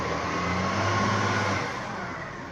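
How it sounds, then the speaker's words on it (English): A garbage truck's engine rumbles steadily nearby, a broad, loud roar that eases off slightly toward the end, with no voices over it. "This is our garbage truck down here."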